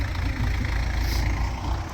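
A 2013 tractor idles during wheat sowing with a steady, low, fairly quiet rumble that continues unchanged throughout.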